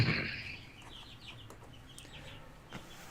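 Backyard chickens clucking and chirping softly at moderate distance, a few short calls scattered over quiet ambient noise after a brief louder burst at the start.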